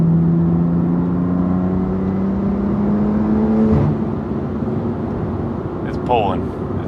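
A BMW M2 CS fitted with a Carbahn Stage 2 piggyback pulls hard under acceleration, engine note climbing steadily from inside the car before easing off, with a voice speaking near the end.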